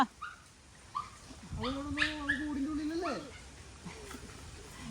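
A dog whines and yelps close by in a drawn-out, pleading cry, with a few short yips before and after.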